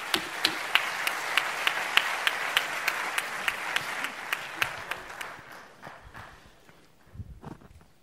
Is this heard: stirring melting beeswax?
no